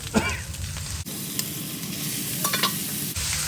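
Catfish pieces hitting a hot pan of spicy chili paste with fried garlic and chili, a loud steady sizzle with stirring scrapes, briefly cutting out and returning.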